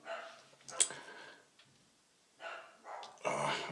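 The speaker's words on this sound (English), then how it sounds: "my dog is barking, so you could probably hear that." A pet dog at home barks in short scattered bursts, a few separate yelps spaced over several seconds, moderately close with quiet gaps between.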